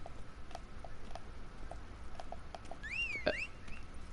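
Horse hooves clip-clopping at a steady walk in The Witcher 3 as Geralt's horse is called over, followed by a short neigh; quiet, fairly distant steps over a faint game ambience.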